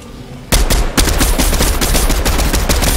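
Gunfire in a team shooter video game starts suddenly after a quiet half second, then continues as a loud, rapid stream of shots.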